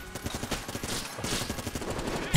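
Rapid game gunfire from a composite gun in Enter the Gungeon, a dense, fast stream of sharp shots repeating steadily with no voices over it.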